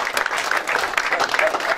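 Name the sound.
audience applause at awards ceremony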